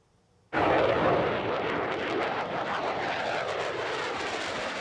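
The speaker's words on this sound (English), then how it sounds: "All right, so there it is, that plane flying close to the speed of sound." An F-16 fighter jet roars past low at an air show, its engine noise bursting in suddenly and sustaining as a loud, broad, rumbling blast for several seconds.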